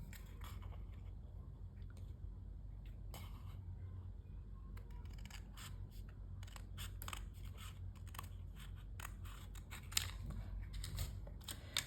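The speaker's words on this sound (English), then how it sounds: "Trim it off at the fifth" Scissors trim paper at a marked line while making a 3D hand fan craft, a string of quiet, scattered snips and rustles over a steady low background hum, with no talk.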